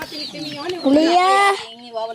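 A chicken clucks and squawks loudly up close, rising into a drawn-out cackle before trailing off.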